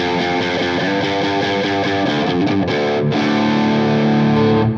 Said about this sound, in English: I might have had more distortion on than that.